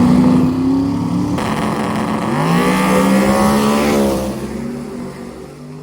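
A drag race car makes a pass during Drag Week 2023, its engine roaring loud and close. The pitch climbs as it revs through the run, then the roar drops away as the car pulls off into the distance.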